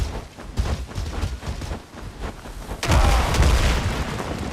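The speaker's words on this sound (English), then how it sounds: "Throw the grenades, boys." Grenades burst in a video game firefight, a run of low, rumbling booms, then a heavier, louder blast that rolls on and slowly trails off.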